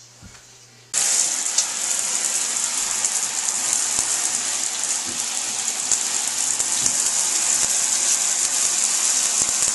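Water runs steadily while a girl's hair is washed, a continuous close hiss like a tap or shower starting abruptly after a quiet moment and holding even to the end.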